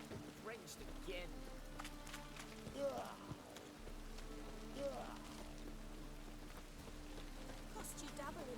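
Steady rain patters on surfaces throughout in The Witcher video game, a continuous wash beneath low tones, with a few brief voice exclamations breaking through.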